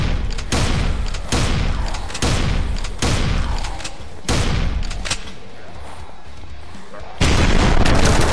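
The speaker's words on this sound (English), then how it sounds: "I guess some zombies blow up." Zombies blowing up in the game Blood Waves: a run of heavy booming bursts, roughly once a second, loud and close, with a sustained rumbling crackle between them and a bigger blast near the end.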